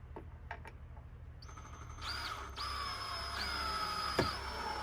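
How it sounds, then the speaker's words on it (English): A power screwdriver drives a couple of screws to mount an outdoor solar security camera, giving short high whirring bursts that rise and stop at close range, with light handling knocks in between. "So we'll drop a couple screws in here."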